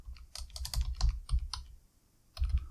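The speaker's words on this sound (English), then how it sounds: "I'm not in a good position to type. That's why I'm kind of screwing it up. My keyboard's in a funny spot here." Someone types on a computer keyboard set in an awkward spot, close and clear, in uneven clusters of keystrokes with a short pause before a final burst.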